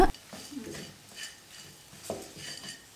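A spoon lightly stirs radish chutney in a pan, making a few soft, scattered scrapes and clinks against the metal, close and quiet.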